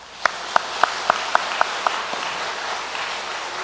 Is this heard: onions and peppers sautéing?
no